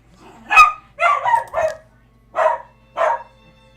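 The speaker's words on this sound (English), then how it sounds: "Dogs are barking." Dogs bark in the video game Wildermyth, five sharp separate barks in an uneven rhythm, close and clear over near silence.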